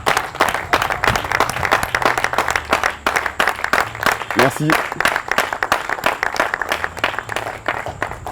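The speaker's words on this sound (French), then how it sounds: "Vos applaudissements, s'il vous plaît." An audience applauds at a May Day 2022 celebration, with dense, steady clapping filling the room throughout while a voice speaks briefly over it.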